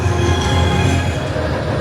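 Icon roller coaster train at Blackpool Pleasure Beach rumbling loudly and steadily along the track, a dense roar of wheels with no pauses or voices.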